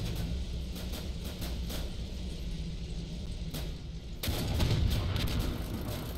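Shots and impacts in a medieval strategy game battle with ballistas, a dense rumbling run of booming hits and crackles that grows heavier toward the end, with no talking.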